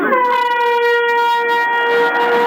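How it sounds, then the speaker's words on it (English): A full-time siren sounds at a 1991 Wales versus Papua New Guinea rugby league match, a loud, steady tone held for a couple of seconds over faint crowd noise. "There's the full-time siren."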